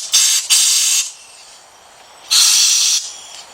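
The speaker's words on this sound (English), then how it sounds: "Now what we're going to do is take our blower," An air blower fires off loud, close bursts of hissing air while working on a Ford Fiesta engine, two blasts in quick succession, a quiet pause, then another long rushing burst.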